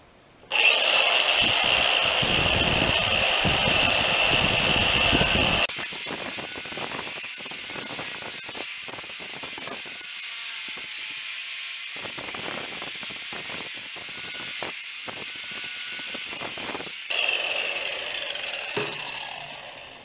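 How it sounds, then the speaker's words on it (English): A wire wheel on a bench grinder cleaning metal parts, sounding as a loud, steady whine with harsh scratchy grinding that changes pitch as the part is pressed and shifted against the wheel, running continuously throughout. "having a nice wire wheel on your grinder also"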